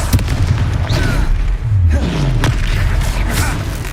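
A Confringo fire spell in Hogwarts Legacy bursts into a loud booming explosion with a heavy thud, set against continuous game sound and background score.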